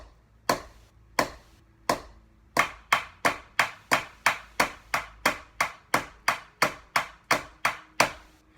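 Sharp, crisp strokes on a marching snare drum come first as a few spaced hits, then settle into a steady, even run of about eighteen evenly timed eighth notes, loud and close with no talking.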